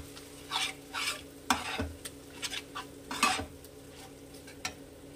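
A spoon stirs cashew and poppy seed paste into chicken in a pan, giving several scraping clinks and bursts against the metal over a low sizzle, close and alone.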